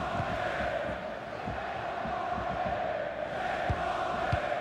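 Stadium crowd noise in FIFA 23, a continuous roar of cheering and chanting from a large football crowd, steady and loud throughout.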